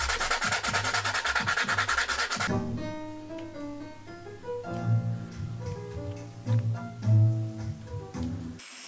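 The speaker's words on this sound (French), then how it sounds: "Là, j'arrondis les angles." Rounding the corners of a handmade wooden box: a loud, steady abrasive rubbing hiss with rapid back-and-forth strokes for about two and a half seconds, then giving way to music.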